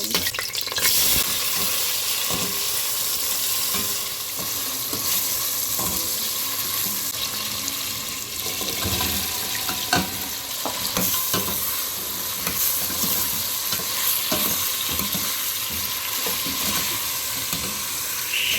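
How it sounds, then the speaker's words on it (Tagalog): Boiled beef being sautéed (ginisa) in a pan for sinigang: a steady, close sizzle and fry runs throughout, with scraping stir strokes of a spatula recurring over it, no voices. "Ang next naman po na gagawin ay ang paggisa."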